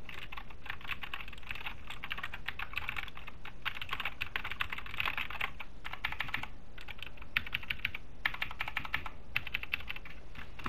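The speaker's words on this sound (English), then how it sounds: "this is what the Anne Pro 2 sounds like" Steady, fast typing on an Anne Pro 2 mechanical keyboard, close and fairly quiet, with dense clacking keystrokes and a few brief pauses, no talking.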